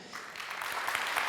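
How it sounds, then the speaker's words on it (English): A conference audience at a talk on serverless development applauds briefly, a soft but dense patter of many hands that swells slightly over its short span. "please, round of applause to them"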